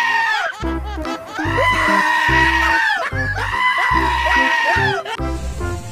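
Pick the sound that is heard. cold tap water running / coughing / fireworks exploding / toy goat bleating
toy goat bleating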